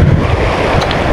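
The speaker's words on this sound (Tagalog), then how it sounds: "Lakas ng alon pa rin." Strong ocean waves surge around a fishing boat at sea, a loud continuous wash mixed with buffeting wind noise.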